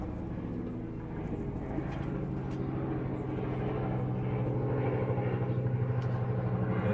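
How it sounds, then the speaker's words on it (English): Police helicopters pass overhead, a low droning rotor and engine rumble that grows slightly louder and steadier across the scene, heard from a distance above. "We've got police helicopters flying over."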